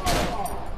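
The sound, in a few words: gunfire from enemy doctor in video game Cry of Fear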